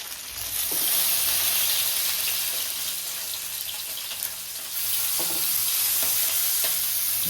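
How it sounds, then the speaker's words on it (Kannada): Marinated fish frying in oil on a hot tawa gives a steady, close sizzling hiss with a few soft scraping clicks, swelling noticeably louder during the last few seconds, with no voices. "ಇವಾಗ ತವಾ ಇಟ್ಟಿದ್ದೀವಿ, ಎಣ್ಣೆ ಹಾಕಿ. ಎಸ್, ಇನ್ನು ಫ್ರೈ ಮಾಡಲಿಕ್ಕೆ ರೆಡಿ ಆಗಿದೆ. ತವಾ ಫ್ರೈ."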